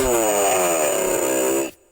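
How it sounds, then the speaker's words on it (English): A steady buzzing motor drone, like a chainsaw running at constant pitch, loud and continuous before stopping suddenly. "That sounds to me a little bit like a chainsaw."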